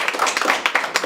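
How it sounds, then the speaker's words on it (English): An audience at an awards show gives a brief burst of clapping for the winners, dense, mid-distance hand claps in a short, busy patter. "If we can get another round of applause for each of the winners tonight."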